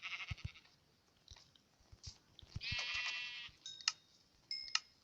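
Synthetic Minecraft sheep bleat in short, buzzy bursts, mixed with quiet crunchy chewing and clicking sounds.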